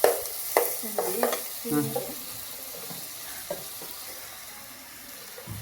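Chicken fries in a pan for a Mangalorean chicken curry, with brief stirring scrapes and a sizzle that fades to a low, steady hiss; a voice briefly speaks over it.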